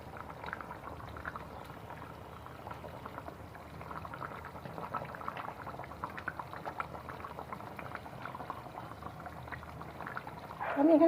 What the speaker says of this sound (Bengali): এই দেখুন আমার জলটা ফুটে উঠেছে।